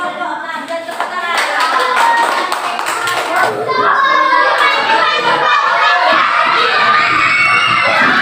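A classroom of children claps together in a loud burst of applause. Excited shouts and chatter mix into the clapping, which keeps going throughout.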